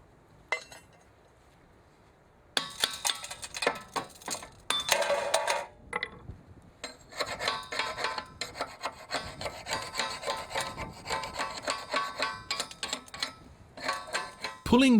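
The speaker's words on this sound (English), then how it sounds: "Now slag residues have to be removed." Slag residue being scraped and chipped off a freshly cut thermite rail weld, bursts of harsh scraping and metallic clinks after a quiet start, close and continuous without talk.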